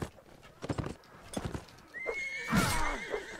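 A horse in the Mount & Blade: Warband game clatters in rapid galloping hoofbeats, then lets out a loud, shrill neigh that trails off.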